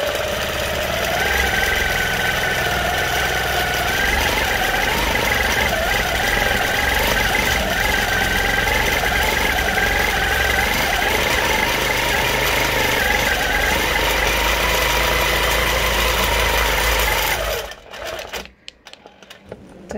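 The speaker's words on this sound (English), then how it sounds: "Idling at 200 speed, and I'm not going to force the machine because my channel locks have been engaged." A longarm quilting machine idles at speed 200 with channel locks engaged, giving a loud, continuous mechanical hum with rapid rhythmic stitching vibration that holds steady for about seventeen seconds before cutting off into a few clunks.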